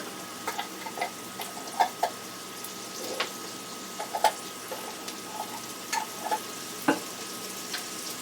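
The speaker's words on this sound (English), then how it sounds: "as you can hear it sizzling, we stir it together" Garlic and onion sizzle steadily in a hot pan, broken by scattered pops and sharp clicks of stirring, with no one speaking.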